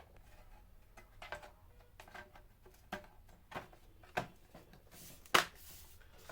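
Plastic clips on the bottom cover of an HP Envy 360 15 laptop snap into place as it is pressed shut, a series of sharp, quiet clicks and snaps scattered unevenly over a few seconds, close by.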